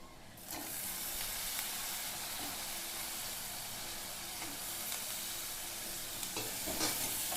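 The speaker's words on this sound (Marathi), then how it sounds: "गरम मसाला टाकणार आहोत, हळद टाकणार आहोत आणि हे चांगलं मिक्स करून घेऊ।" Drumstick and potato pieces are stirred with garam masala and turmeric in a hot kadai. There is a steady close sizzle with scraping stirs that recur throughout, and no voices.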